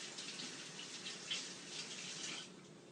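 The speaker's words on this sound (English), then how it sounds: "I'll go ahead and wash my hands rapidly with hot water, of course. Use a brush to get under the nails." Hot water runs from a tap while hands are scrubbed with a nail brush, a soft, steady rushing stream heard alone and fairly faint.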